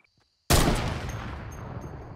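Gunfire in the Fortnite video game: a sudden loud burst of shots erupts after half a second of near silence, then rolls on as a dense, sustained crackle of rapid fire that slowly fades.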